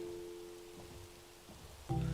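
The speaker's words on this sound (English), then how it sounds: "The rain actually looks pretty cool here." Rain falls in the Minecraft video game as a faint, steady hiss, joined near the end by a sudden louder tonal sound.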